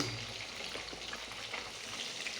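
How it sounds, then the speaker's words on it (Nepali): Fish sizzles and spits steadily in a hot frying pan, a continuous dense crackle with fine popping throughout, close and fairly loud, no voices. "यसरी फ्राई बक बक पकाउनु हुँदैछ हाम्रो बुहारीले।"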